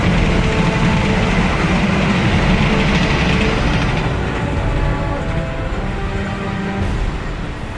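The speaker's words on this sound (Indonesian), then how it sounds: "Lihat pemirsa, ada kereta api lewat." A train rumbles steadily past a rural station surrounded by rice fields near Cirebon, a loud continuous roar with faint rail clatter that holds for the whole stretch, slightly easing toward the end.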